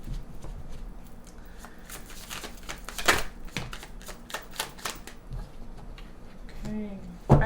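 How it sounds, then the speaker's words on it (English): Tarot cards from a Vampirella deck are shuffled by hand in close, crisp riffles and taps with an irregular rhythm, while a voice speaks briefly under them. "one more shuffle"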